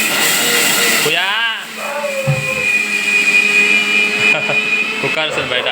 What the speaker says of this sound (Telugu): ఇప్పుడు మొత్తం మిక్సీ పట్టడం అయితే స్టార్ట్ చేసింది